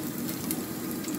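Garlic sautés in hot oil in a cooking pot, giving a steady close crackling sizzle throughout with no voices, ending in a brief sharper spatter.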